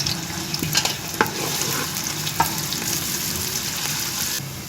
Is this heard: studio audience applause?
no